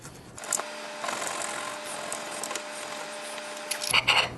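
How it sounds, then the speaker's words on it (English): Fresh ginger root is rubbed against a grater, giving a continuous dry scraping rasp for a few seconds, with small knocks at the start and finish. It is close and moderately quiet, and no one talks. "what I'm gonna do is grate this and then take the juice off"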